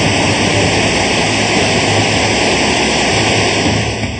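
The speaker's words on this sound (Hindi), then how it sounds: "गौर से देखिए, ग्लेशियर का पानी इस गहरे कुंड में गिरता दिख रहा है।" Glacier meltwater at Gandhi Sarovar near Kedarnath pours steadily into a deep pool, a loud, close, unbroken roar of rushing, falling water with no pauses.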